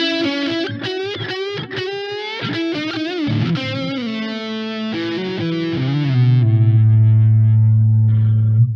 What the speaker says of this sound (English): There's that little echo, the delay on there through the stereo just sounds so rich.